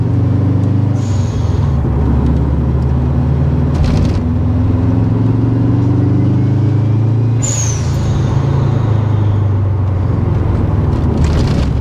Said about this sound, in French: Même la caméra bouge avec la poussée du turbo